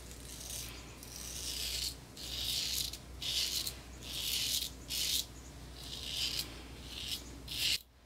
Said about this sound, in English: So you can even tell when I'm shaving